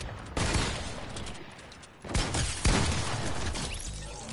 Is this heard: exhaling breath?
no